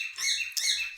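A bird gives a short, bright mating call of two quick chirping bursts, close and clear against near silence.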